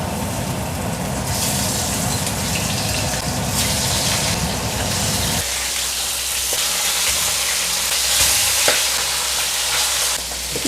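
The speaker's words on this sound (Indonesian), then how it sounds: "Ini mau ditumis pakai kulit tahu." Ginger stir-frying in hot oil with salt and tofu skin in a wok, a steady loud sizzle and crackle with stirring scrapes running throughout the whole stretch.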